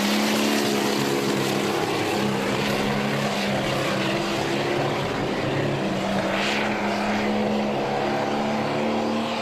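Pro stock pulling tractor engine roaring at a tractor pull in Chandler, Arizona, a steady loud mechanical drone with strong low harmonics holding throughout, near and continuous with no speech over it.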